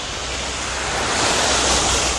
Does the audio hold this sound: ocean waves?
yes